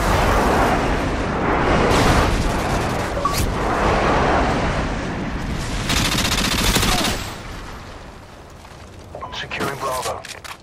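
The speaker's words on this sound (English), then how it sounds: "Friendly airstrike." Rolling string of friendly airstrike explosions in the video game Modern Warfare 2, dense booms and crackling gunfire blending together for several seconds before thinning out, with game chatter mixed in.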